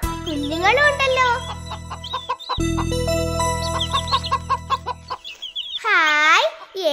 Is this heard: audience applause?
no